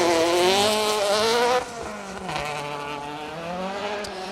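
A Ford Fiesta ST150 rally car with day-glo yellow stripes passes on a forest stage, its engine revving high and rising in pitch, then dropping and pulling away loudly, with no talk.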